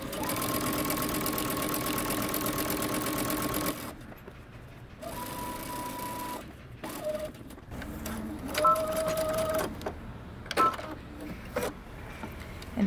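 A sewing machine stitches down one side of a coat's centre back seam, then pauses and restarts in the other direction. A steady run of several seconds gives way to shorter bursts broken by quiet gaps and small handling noises.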